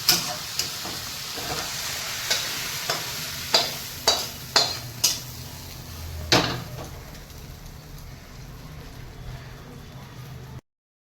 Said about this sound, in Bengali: এই আমার চিংড়ি মাছ ভাজা রেডি হয়ে গেছে